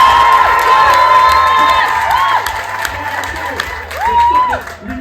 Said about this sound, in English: Remember this level of applause.